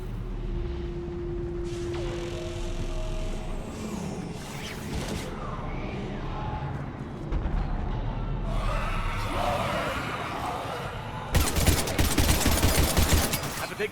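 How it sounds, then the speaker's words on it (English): Gunfire and bursts of automatic weapons fire in the Mass Effect 3 video game, layered with explosions and combat noise against Husks, swelling to a dense loud barrage near the end. "we're taking heavy fire"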